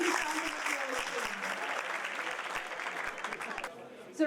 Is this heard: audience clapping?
yes